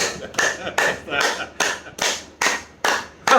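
Hands clap in a steady, evenly spaced rhythm, about eight sharp claps close by, each ringing briefly before the next.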